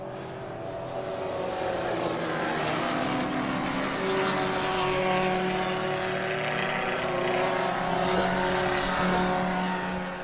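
Race cars on a circuit at the 2012 Spokane Festival of Speed, a loud sustained engine roar with shifting pitch as cars pass close by, steady and continuous with no talk.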